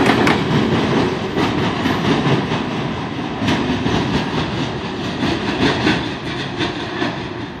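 A short train with two locomotives rumbles past close by in Charlottesville, Virginia, with a steady loud roar and rhythmic clacking of wheels over rail joints throughout.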